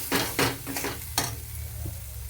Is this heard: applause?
no